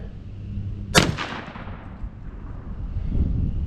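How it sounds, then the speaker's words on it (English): A single loud shotgun blast from a .410 firing pest rounds at a target at ten paces cracks sharply and rolls off in a decaying echo, with quiet outdoor ambience before and after. "I'm gonna start laying some fire down."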